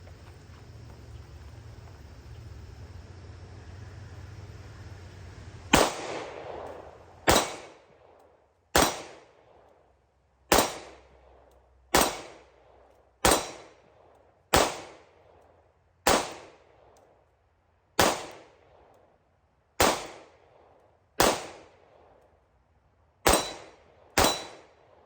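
A CR920 rifle is fired one-handed, about twelve sharp gunshots spaced one to two seconds apart, each with a ringing decaying tail. Steady outdoor ambience comes before the first shot, and no one speaks.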